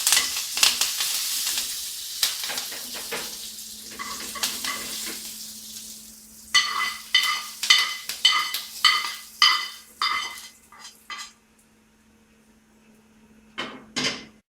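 Asafoetida and curry leaves are dropped into hot oil for tempering and sizzle loudly, followed by a series of sharp crackles and stirring clatter in a pan, then the sizzle fades to a quiet tail.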